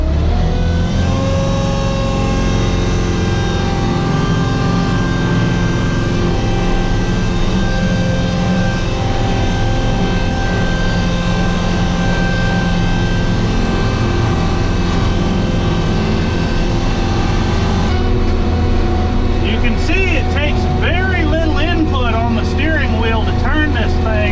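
A Hesston 6600 windrower, an older machine with some wear, drives forward with its engine held at a loud, steady, droning throttle, and a clattering mechanical rattle joins in near the end.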